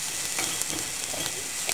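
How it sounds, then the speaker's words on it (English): Spices with coriander fry in a pan for potato curry, giving a brief, even hiss of sizzling with faint stirring scrapes and no voices. "then you fry it with all the other stuff"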